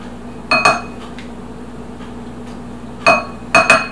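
A utensil stirring a mustard mixture knocks against the bowl in a few sharp, separate clinks, one early and a quick cluster later, over a quiet room.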